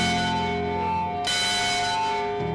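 A large historic school bell, the old Mather Bell, rings with a rich, sustained metallic tone, struck again midway so the resonant hum swells and lingers.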